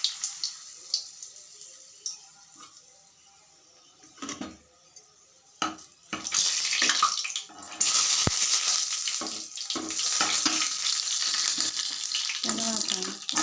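Red chillies sizzle and crackle in hot oil in a pan on a stove, faint at first, then a loud, steady frying hiss from about six seconds that keeps going to the end.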